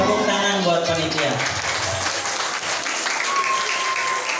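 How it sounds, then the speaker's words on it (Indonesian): A crowd at a Sundanese religious talk applauds the organizing committee, giving a dense burst of clapping that follows a speaking voice at the start and continues steadily to the end. "Tepuk tangan buat panitia."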